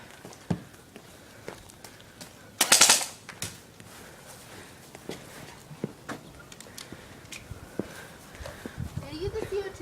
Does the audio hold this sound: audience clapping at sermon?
no